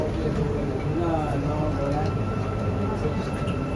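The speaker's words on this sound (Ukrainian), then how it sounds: "потяг їздить автоматично, без водія" Driverless automatic metro train in Kuala Lumpur running steadily, a loud continuous rumble and rail roar heard from inside the front carriage, with no pauses across the stretch.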